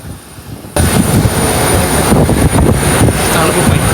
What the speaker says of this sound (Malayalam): വിമാനം